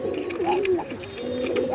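A pigeon coos in a series of close, rolling, throaty warbles, repeating without pause across the whole moment, with faint background noise beneath.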